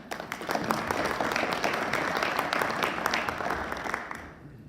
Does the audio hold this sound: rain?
no